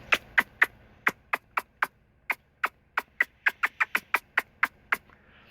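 A person imitates a squirrel's call through cupped hands: about twenty sharp, squeaky kissing chirps in a quick, uneven rhythm, close and clear.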